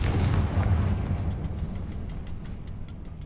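A Confringo fire spell explodes in the Hogwarts Legacy video game, a loud booming blast at the start that rumbles and slowly fades, with no talking.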